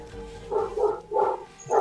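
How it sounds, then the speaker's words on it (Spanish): Dogs barking in the Warframe game, a short run of four or five yapping barks close together, fairly loud and alone. "los perros, perros culiados"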